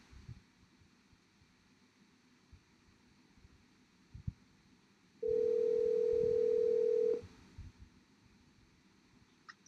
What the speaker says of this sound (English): I'm going to tap on the phone app, and I'm going to call Deidre, who's a colleague on the watch team.